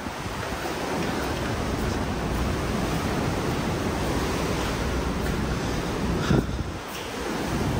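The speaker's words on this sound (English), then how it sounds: "it's windy out here" Strong wind roars steadily across the open deck of a cruise ship, the Celebrity Ascent, at sea, buffeting the microphone with a constant rushing noise, with no voices.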